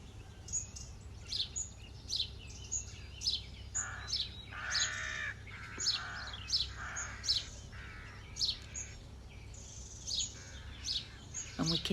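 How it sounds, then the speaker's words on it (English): Birds sing and chirp on a sunny morning over fields with cows nearby, repeated bright calls and short phrases at moderate distance, with a few harsher caw-like calls, over a faint low background rumble. "And we can hear the birds."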